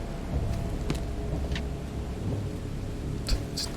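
Rain falls steadily in a dark, abandoned-asylum setting in The Sinking City, a soft constant wash with a low rumble beneath and a few sharp distant clicks near the end, no speech.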